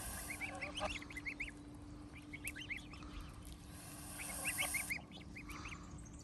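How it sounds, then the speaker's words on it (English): Geese at a freshwater spot on Anglesey honk in short repeated bursts, several birds calling in clusters at moderate distance over a low steady hum, with no talk. "Good duck. Goose, geese, whatever you are."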